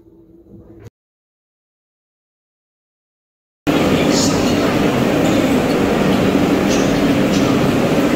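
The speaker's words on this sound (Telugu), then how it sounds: "Delhi to Agra కాంటి train." After a short quiet gap, a Vande Bharat train running from Delhi to Agra produces a loud, continuous rumble with a steady rush of wheel and track noise.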